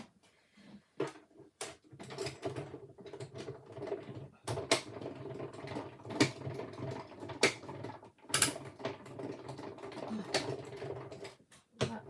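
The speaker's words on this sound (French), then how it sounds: "je passe dans la petite machine à découper qui est derrière moi" A small die-cutting machine cranks a paper card through, making a long run of ratcheting mechanical clicks and whirring gear noise, with sharper clacks scattered throughout, close and moderately quiet with no voice.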